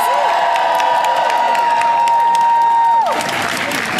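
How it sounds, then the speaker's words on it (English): An audience at a rally against cuts to the CFPB applauds loudly and steadily, with cheers and whoops mixed into the close, continuous clapping before it fades at the end. "Please give them another round of applause."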